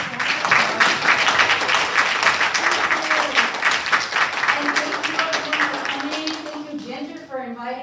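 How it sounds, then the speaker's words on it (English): A seminar audience claps for a speaker with a dense patter of applause that slowly thins out. A voice speaks over the clapping, which fades near the end. "Let's give Neko a big round of applause"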